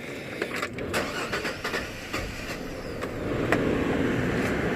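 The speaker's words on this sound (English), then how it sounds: "If you heard that, it turned over a little more than usual." A Chevrolet Trailblazer, just reassembled after a throttle body cleaning, cranks a little longer than usual before starting. The engine then settles into a steady idle that swells slightly toward the end.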